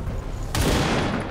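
A gunshot in the video game XCOM 2 strikes suddenly partway through, a loud sharp blast with a rumbling tail after a quieter stretch of low game ambience.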